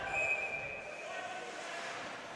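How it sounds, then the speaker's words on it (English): Referee's whistle at a men's university ice hockey game, a thin high tone near the start fading under arena crowd murmur, faint and distant rather than sharp. "The official has blown the whistle for some reason."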